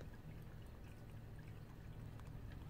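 Water poured into a cat's water fountain, a faint, steady trickling pour with a low hum underneath, close and continuous, with no talk.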